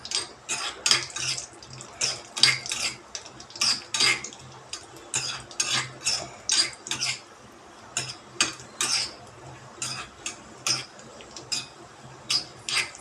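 Cashew pieces fry on low flame in a pan for a jaggery rice dish, with a steady, fairly rapid run of metallic clinks and scrapes from a spoon stirring against the pan, close and alone.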